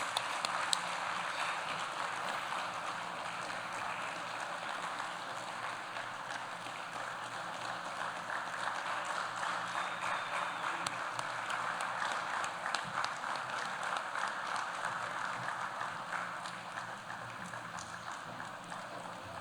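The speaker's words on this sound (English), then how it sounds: "We keep the applause going." Audience applause for a spoken word artist at an inaugural poor man's dinner event, a dense, steady wash of clapping from a crowd that holds evenly for about twenty seconds with no voices over it.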